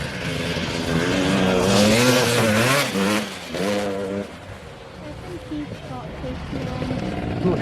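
A KTM motocross bike on a muddy local track revs hard over a jump, its engine note rising and falling loudly at close range before fading into the distance while people talk over it.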